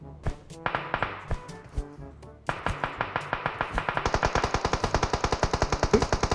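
Gunfire in the mobile battle royale game PUBG Mobile: a few scattered single shots, then sustained rapid automatic bursts that speed into a dense, loud rattle, with no voices over it.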